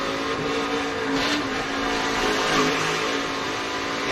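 Onboard engine of a NASCAR race car at Iowa: a steady, dense, full-throttle roar that holds at an even level throughout.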